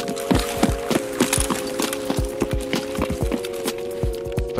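Footsteps from above the players in Escape From Tarkov, a steady run of hollow clomping steps with a tonal hum underneath, moderately loud and continuous with no talk.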